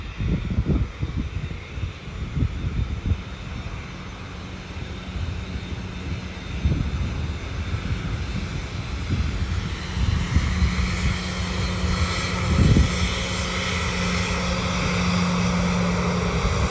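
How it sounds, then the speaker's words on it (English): Qantas airliner passing overhead, a steady broadband engine roar building gradually and staying loud, with a few low thumps of wind or handling noise early on and no talking. "And there's a Qantas is coming, guys."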